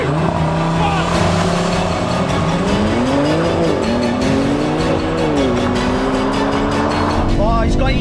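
A 2022 8Y Audi RS3 and a 2022 G80 BMW M3 launch side by side in a drag race, engines roaring loud and close with rising revs and gear changes, steady and unbroken for the whole stretch.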